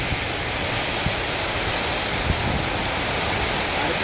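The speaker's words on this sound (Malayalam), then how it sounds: "കാറ്റാണ്, ഭയങ്കരമായ കാറ്റ്" Strong monsoon storm wind roars in a steady, dense rush, with a couple of brief low thumps from gusts, loud and continuous throughout without any voices.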